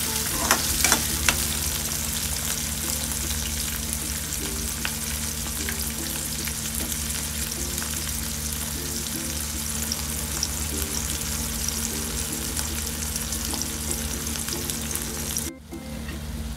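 A masala paste of onion, tomato and roasted coconut fries in a pan, sizzling steadily and close by while being stirred, with occasional scraping clicks and no talking.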